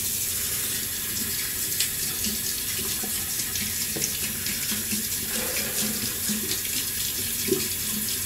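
Hot water runs steadily from a tap into a sink, a continuous close splashing hiss with no one talking.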